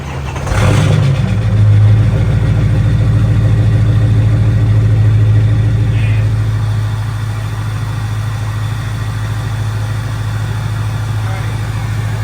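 An inherited diesel truck in need of a lot of work starts up and idles loudly while warming up, a steady low droning rumble after a brief rev at the start, with a person talking over it.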